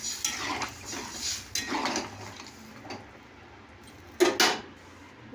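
Cooking in a pan with a splash of water poured in, then a utensil scraping and clinking against the metal in several short bursts, moderately close, with quiet pauses between strokes.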